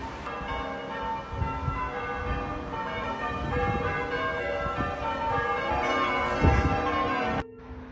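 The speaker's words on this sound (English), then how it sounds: "I was greeted by church bells when I arrived." Church bells ring near Chatsworth in the Peak District, a sustained series of overlapping tolls with rich lingering tones at moderate distance, continuing steadily before cutting off at the end.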